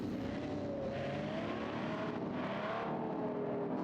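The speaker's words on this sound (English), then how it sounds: "You can hear that engine roaring, more screaming from Michael's car." GT race car engine at the Belgium Grand Prix roaring and screaming at high revs, a loud sustained tinny whine rising and falling as it accelerates.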